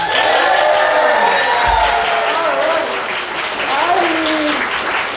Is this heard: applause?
yes